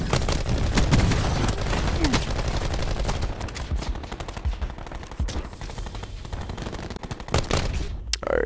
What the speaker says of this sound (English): Shooting me from up there